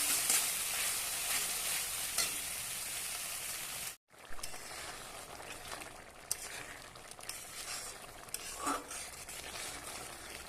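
Masala for chana dal paneer sizzles and frying in a pan while being stirred, a steady broadband hiss with scraping stir sounds, briefly cut off near the middle before continuing.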